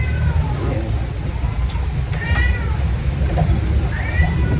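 A cat meows several times, drawn-out rising cries partly under people talking during a home birthday celebration, with steady low background rumble throughout.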